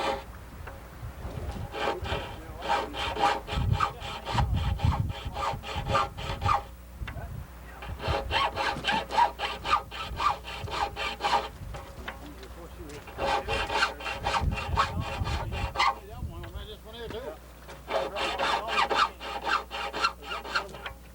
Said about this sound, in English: here you are, Dean, touching up the old blade